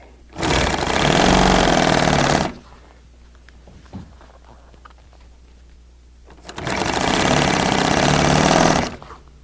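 A sewing machine stitching an acrylic panel runs in two loud steady bursts of about two seconds each, separated by a quiet pause with faint handling noise.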